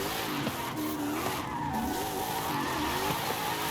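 A race car engine screams at high revs in Forza Horizon 5, its pitch wavering up and down continuously, with loud tire squeal and skidding layered on top.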